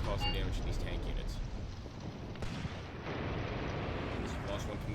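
Artillery barrage falling on tanks in the WWII tactics game Graviteam Tactics: Mius-Front, a continuous rumbling roar of explosions and gunfire that stays loud for the whole stretch, with a voice talking over it.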